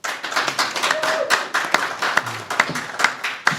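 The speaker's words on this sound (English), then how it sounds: "a warm round of applause for Sangita Swechcha" Audience applause welcomes an author at an art exhibition and book launch, a modest, uneven round of hand claps with a few sharper individual claps standing out, fairly close and steady for a few seconds.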